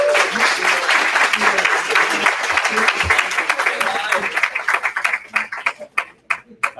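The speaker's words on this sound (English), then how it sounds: "let's give a round of applause to all of the audience that made an effort to make it out today" An audience at a launch party claps in steady, full applause that gradually thins out into scattered individual claps toward the end.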